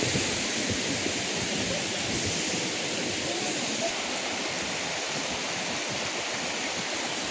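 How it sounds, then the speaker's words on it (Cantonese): A small waterfall at Huanglong in Sichuan pours over golden, sandy travertine terraces in a continuous broadband rush of water, steady and fairly close with no breaks. "呢度都似金沙鋪地嘅瀑布仔。"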